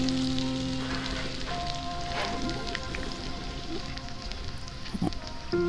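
Two medium chopped onions sizzle in hot oil with green chillies for kande pohe, a steady crackling hiss running throughout with a few brief clinks near the end, no talking.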